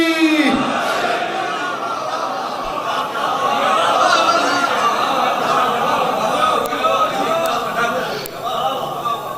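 Massed voices at a Shia majlis in Bahawalpur chant a religious slogan together, a loud, rough crowd roar mixed with scattered individual shouts and chatter, fairly close and sustained.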